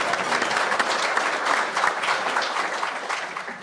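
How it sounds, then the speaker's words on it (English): Audience applause greets a leadership panel at a Chamber of Commerce breakfast, a dense, continuous wash of many hands clapping that holds strong throughout and eases slightly at the end. "Let's give them a round of applause and get things kicked off."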